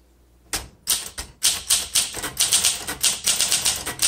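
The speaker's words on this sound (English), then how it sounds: "The keystrokes are so easy and smooth" Keys strike on a 1961 Olympia SM7 manual typewriter in a quick, even run of crisp, loud clacks, closely recorded after a brief quiet start, with no speech.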